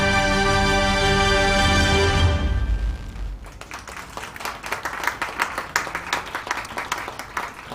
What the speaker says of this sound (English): there was lots of applause for you this evening